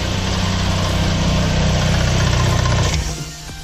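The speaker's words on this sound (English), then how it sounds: "Goddamn air compressor." An air compressor with a leak runs loudly and steadily close by, a buzzing mechanical drone that cuts off abruptly near the end, with no talking.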